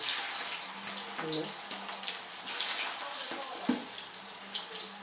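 Cassava chips fry in hot oil over a medium flame, giving a steady close sizzling hiss, with brief voice sounds in the background.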